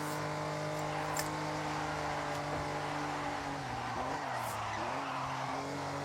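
A Ferrari drifts in Forza with a sustained engine drone under a long, wavering tire squeal that bends in pitch near the end, heard alone without talk.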